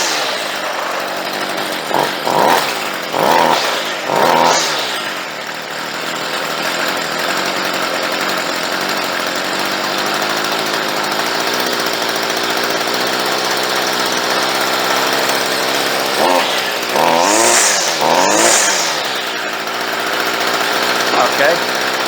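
A Stihl 55R string trimmer's small two-stroke engine runs steadily during carburetor adjustment, a loud buzzing drone with brief revs near the start and again near the end, while someone talks over it.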